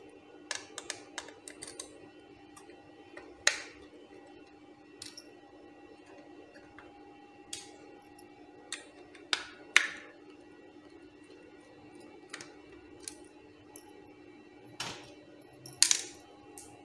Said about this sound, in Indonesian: Ini ada dua baut yang kita buka ya.